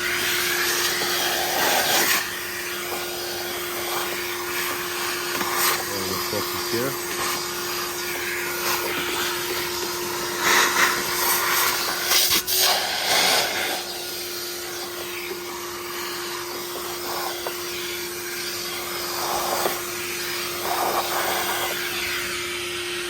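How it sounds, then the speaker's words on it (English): A vacuum cleaner runs steadily up close, sucking coffee grounds out of a DeLonghi Magnifica coffee machine during cleaning, its steady whine rising briefly as the nozzle scrapes and bumps the machine. "Take the vacuum now and just vacuum."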